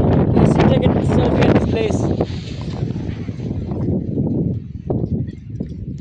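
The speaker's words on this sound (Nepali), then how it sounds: "यस्तो खतरा हावा" Strong wind in Mustang roars loudly across the microphone in continuous gusts, while a person talks over it close by.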